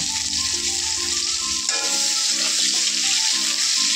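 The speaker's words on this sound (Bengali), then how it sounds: "আর এখানে পেঁয়াজ কুচিটা দিচ্ছি" Chopped onion sizzling in a hot pan for fish curry, a steady broadband frying hiss throughout, close and fairly loud, with faint background tones and kitchen clatter.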